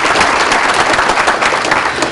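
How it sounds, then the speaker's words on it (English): Applause at a neighborhood leadership awards ceremony for a Madison contingent, a dense, steady wash of clapping from an audience, loud and close, with no talk. "a round of applause for our Madison contingent"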